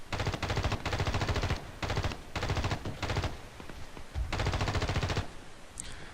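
Rapid automatic gunfire from the video game Battlefield Play4free, several loud, close bursts of machine-gun fire separated by short pauses.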